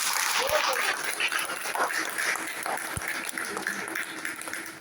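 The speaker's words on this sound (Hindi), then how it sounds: "एक जोरदार ताली होनी चाहिए।" A hall audience at a DXN motivational speech in Kolkata claps loudly, a sustained dense round of applause lasting the whole stretch, with faint voices mixed in.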